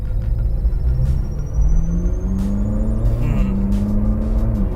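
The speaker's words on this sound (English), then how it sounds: "Loving the V8 in the back," Ferrari 458 with its naturally aspirated V8 mounted in the back, a deep steady engine drone with rising tonal sweeps as it pulls, heard from inside the car.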